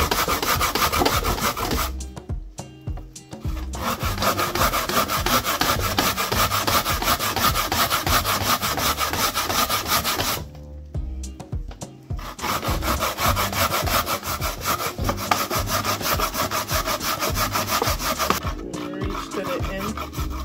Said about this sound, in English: I'm just grating my sweet potato.